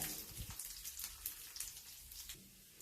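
Urad dal roasting in oil in a pan, a faint steady crackle and sizzle with soft popping, heard alone with no talk.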